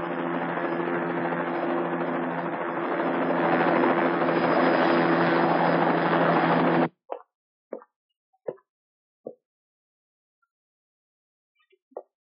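A helicopter's rotor and engine roar steadily and loudly for several seconds, then cut off abruptly, followed by a few short, sharp knocks in near silence.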